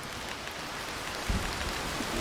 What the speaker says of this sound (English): Moving on from that, I've slightly changed rain.